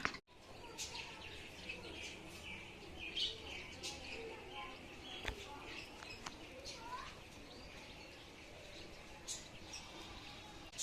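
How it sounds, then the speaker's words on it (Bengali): Faint, scattered bird chirps and short tweets from a distance, irregular and soft over quiet room tone. "আর এই দিকটাতে তোমরা কিন্তু পাখির আওয়াজ শুনতে পাচ্ছ"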